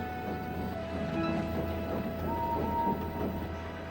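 An animated steam engine, Henry, rolls in with a steady low chug and rumble of wheels on the rails at a night junction, plus a couple of faint whistle-like tones, no talking.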